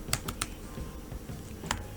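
A few quick key clicks on a computer keyboard while typing a Java file name, close up over a steady low hum.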